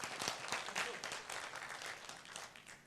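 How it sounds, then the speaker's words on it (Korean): A small audience at a Buddhist talk claps briefly, a soft patter of applause that fades slightly toward the end. "박수 한번 쳐주세요"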